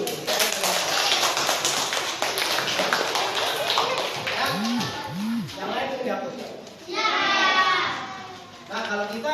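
A classroom of children claps their hands together, a brisk burst of quick close claps followed by excited young voices chattering and calling out, with more clapping and talk rising again near the end.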